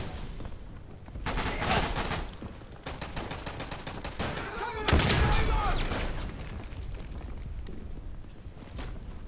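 Gunfire in Day of Infamy on a Dunkirk invasion map: dense, loud volleys of rifle and machine-gun shots in bursts, with a heavier blast partway through and some talk in the background.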